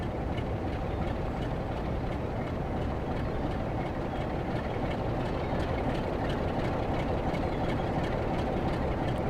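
Diesel locomotive in the train simulator game Train Sim World pulling stock while shunting at Blackpool North, a steady low engine drone with faint rhythmic clicks running throughout, loud and close with no talking.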